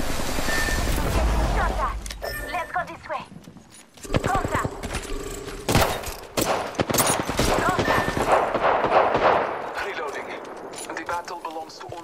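Rapid bursts of gunfire in the battle royale shooter Apex Legends, dense loud volleys with short gaps and impacts, a player's voice talking over part of it.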